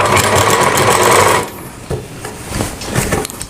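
A sewing machine stitches a kanchli blouse, running in a fast steady whir for over a second before stopping, followed by quieter handling clicks and rustles of fabric.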